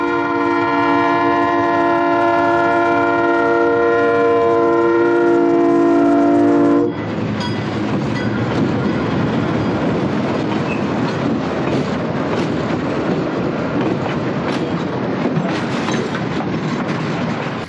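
A Delaware & Hudson train pulling out of Greenwich, its loud horn sounding for several seconds before cutting off, followed by a steady rumble and rhythmic clatter of rolling cars passing close by.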